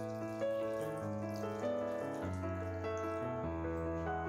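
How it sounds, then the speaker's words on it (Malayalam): A cup of water poured into a pan of squid stir fry, a steady liquid splash lasting several seconds, alone and close. "ഒരു 1 കപ്പ് വെള്ളം ചേർത്ത് കൊടുക്കും."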